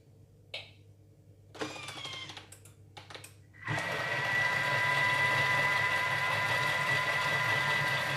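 A kitchen blender switches on after a few scattered clicks and knocks, then runs with a steady loud whirring drone as it mixes dessert recipe ingredients, close and without talk.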